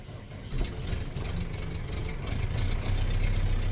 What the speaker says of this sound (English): getting ready to try to start the tractor. Gonna let it warm up while I do some of the other stuff.